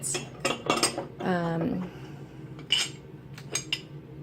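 Red Cliff ironstone bowl and lid knocking together in a few sharp ceramic clinks, with a brief squealing scrape of glazed stoneware in between, close and fairly clear against a quiet room.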